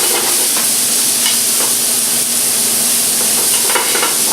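Tomatoes drop into frying okra masala in a hot pan, setting off a loud, continuous sizzle and hiss with occasional stirring scrapes, close up and with no voices.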